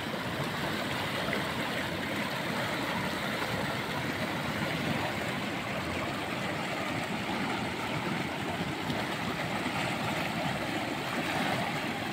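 A flooded village stream after heavy rain, its water rushing downhill in waves, producing a loud, steady, broadband roar that continues without a break.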